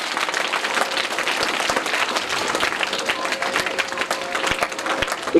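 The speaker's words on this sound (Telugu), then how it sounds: "గట్టిగా చప్పట్లు సార్కు." Steady, dense applause from a crowd at a book launch in a village, loud and sustained throughout with no break, individual claps standing out sharply in the mix.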